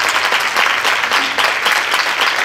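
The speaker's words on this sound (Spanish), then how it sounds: "así que para él os pido un fuerte aplauso también" A loud burst of audience applause at a live flamenco fusion concert, honoring the keyboardist, with dense clapping running the whole length.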